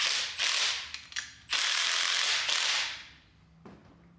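A ratchet tightens the outer tie rod end on a Hyundai Elantra during a repair done on the ground, giving loud, close bursts of rapid clicking separated by brief pauses.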